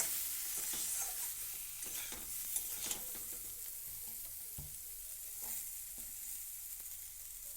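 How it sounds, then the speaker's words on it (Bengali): A spatula stirs drumstick flower curry with turmeric in a hot pan, the quiet scraping and steady low sizzle continuing alone with occasional soft clinks, close and faint. "হলুদটাকে দিয়ে একটু নাড়াচাড়া করে নিলাম।"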